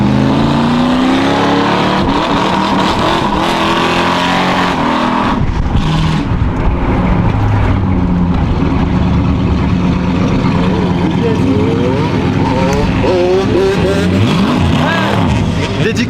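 A loud Dodge Dart engine drones steadily while driving, with revving swells and a rough exhaust note, and voices talk over it throughout.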